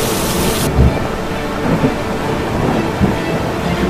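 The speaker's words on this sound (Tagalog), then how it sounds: "kumidlat, at bumuhos ang malakas na ulan na may dalang malakas na hangin." A continuous roar of heavy rain with low rumbles of thunder underneath, intense and unbroken throughout.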